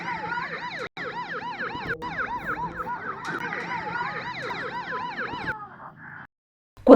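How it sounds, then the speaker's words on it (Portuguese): Wailing sirens sweep up and down continuously, several overlapping and fairly loud, before cutting off abruptly near the end. "ouviram o som das sirenes, indicando que a ajuda já estava a caminho."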